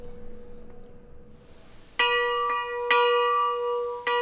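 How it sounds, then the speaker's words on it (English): A small almshouse chapel bell rings out loud and clear after a quiet start, with a few resonant strokes that overlap and hum as they fade. "The bell is rung for chapel services and the stipend ceremony at 10 a.m. on Fridays"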